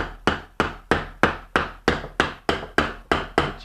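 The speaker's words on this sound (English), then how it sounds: "So then you lay it on the side and you do some hammering with the hammer." A wooden toy hammer from a children's tool kit drives a nail into wood in eleven even, sharp knocks, close and clear with no talking.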